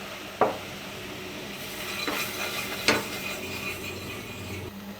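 A whisk stirs flour and water in a pot for Turkish red lentil soup, making soft continuous scraping and swishing with a few sharper clicks of metal against the pan, close and fairly quiet, with no talk.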